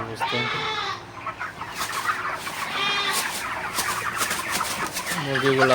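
A flock of 37-day-old broiler chickens, about 2.3 to 3 kg each, cluck and cheep continuously in a farm shed. The overlapping calls are close and fairly loud throughout.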